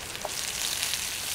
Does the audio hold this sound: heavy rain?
no